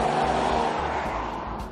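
A Mercedes-Benz GLE 450 AMG 4MATIC Coupé, a 3-litre petrol six-cylinder with all-wheel drive, drives along at a steady pace, its broad engine and road rumble holding at a constant loudness with no talk.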